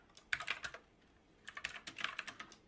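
Code being typed on a computer keyboard, two quiet bursts of rapid, uneven key clicks separated by a short pause, heard close and alone.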